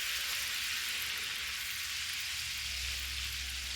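Minced garlic, about two teaspoons, sizzles in melted butter in a pan, a steady, faint hiss like light rain that runs on without a break and with no talk.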